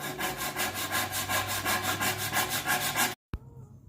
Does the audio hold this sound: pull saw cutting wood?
yes